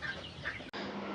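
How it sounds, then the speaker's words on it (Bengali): Backyard chickens cluck softly in a short, faint stretch, with low murmuring fowl sounds and a brief gap near the middle. "আপনারা দেখতে পাচ্ছেন আমার মুরগিগুলো"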